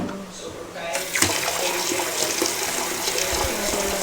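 Tap water runs into a bucket or basin at home, starting abruptly about a second in and then pouring as a steady, close, splashing stream.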